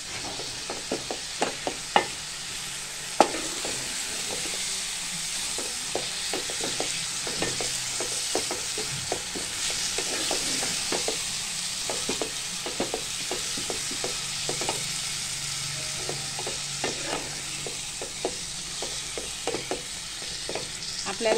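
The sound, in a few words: tomato paste frying and stirred in masala for chicken keema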